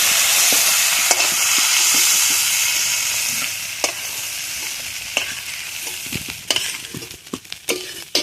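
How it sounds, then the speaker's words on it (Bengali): Prawns fry in hot oil in a village kitchen pan with a steady, loud sizzle, then crackle and pop more sharply and irregularly toward the end. "চিংড়ি মাছটা ভেজে নিয়েছি, তুলে নেবো এবারে"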